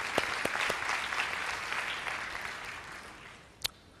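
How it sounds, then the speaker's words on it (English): Conference audience applauding, a dense steady wash of many hands clapping at moderate distance, with a few sharper nearby claps standing out, fading slightly toward the end. "Can we all applaud for them for the good work that they have done?"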